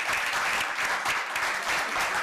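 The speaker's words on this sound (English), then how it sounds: "Round of applause, please, for Sada" An audience at the opening event of a Somali Week Festival applauds, a brief burst of full, continuous clapping at steady loudness from start to finish.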